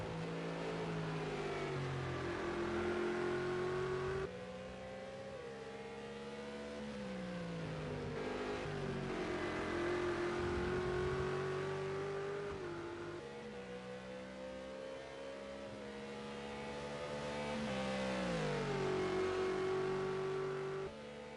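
Race cars roar around Monza in the video game Project CARS 2, engines held at high revs with repeated upshifts and downshifts through corners, a continuous loud whine rising and dropping in pitch.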